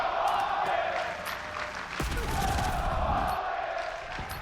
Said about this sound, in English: the crowd let them know they appreciate the domination